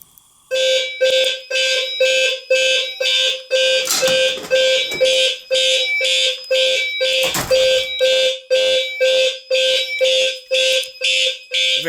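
A fire alarm triggered from a pull station sounds loudly and nearby in a rapid, steady on-off pattern of harsh electronic tones, with brief background rustling in between.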